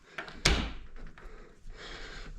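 Knocking on the door of an old trailer, a few sharp raps with one loud bang near the start, then quieter shuffling and room noise.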